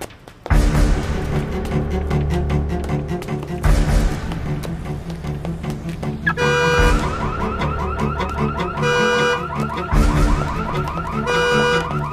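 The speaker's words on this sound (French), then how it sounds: "C'est moi qui ai déclenché l'alarme." A loud car alarm blares continuously, cycling through different siren and beeping patterns, close by with no voices.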